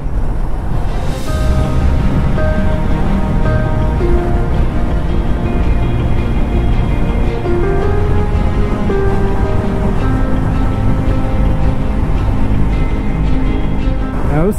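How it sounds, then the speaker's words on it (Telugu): Water flowing through the opened gates of Nagarjuna Sagar dam, a loud continuous roaring rush with faint tonal hum from nearby vehicles. "నీళ్ళు ఫ్లో అయితే ఉంది, వాటర్ ఫ్లో"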